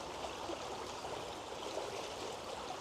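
A small creek under tree cover flows steadily, a continuous soft rush and trickle of water heard close and alone throughout.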